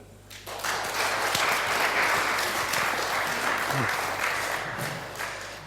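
A hall audience at a South Cambridgeshire election hustings breaks into sustained applause that swells quickly and holds steady, then begins tapering toward the end.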